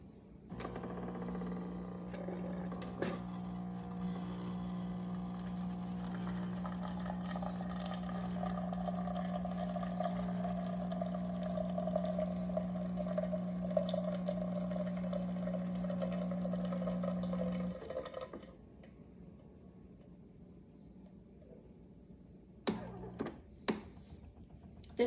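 A Zulay Magia super automatic espresso machine brews a cappuccino with a steady, loud mechanical hum and pump drone for about eighteen seconds, then falls quiet apart from a few sharp clicks and knocks near the end.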